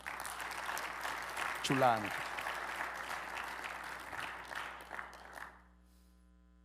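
A church congregation applauds for César, a pianist, clapping steadily for several seconds under a brief spoken remark and a held tone before fading out.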